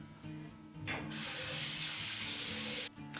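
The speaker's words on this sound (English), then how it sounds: "I'm going to rinse off" Tap water runs and splashes steadily for about two seconds, a broad hiss of rinsing under a faucet, starting and stopping abruptly, close by with a low hum underneath, no voices.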